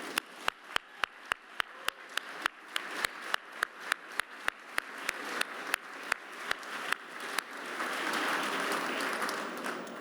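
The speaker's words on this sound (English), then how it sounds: "Please join me in welcoming their many contributions with a round of applause." At a U.S. Embassy Independence Day reception in Berlin, applause builds from scattered sharp individual claps into fuller crowd clapping, with quiet murmuring underneath.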